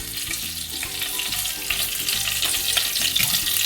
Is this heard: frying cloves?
yes